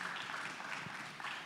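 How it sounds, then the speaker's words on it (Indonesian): Steady audience applause fills a talk-show stage at a mental wellness discussion panel, a dense continuous patter of clapping hands at even loudness throughout. "boleh tepuk tangan dulu dong"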